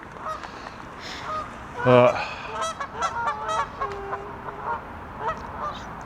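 Geese fighting at a park lake honk repeatedly, with one loud burst of squawking calls amid scattered fainter honks, set against a steady outdoor background.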